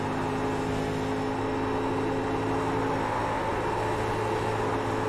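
Stock car in Vertex Stock Car Cup at a 1987 Darlington 250, a steady, loud engine roar with a buzzing whine running unbroken throughout, mixed with broad noise.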